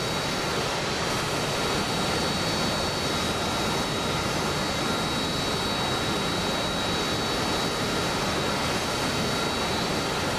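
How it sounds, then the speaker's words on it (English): Harrier jet engines running in a flight simulator game, a steady loud broadband roar with a constant high whine holding throughout. "Well, he's got his engines running."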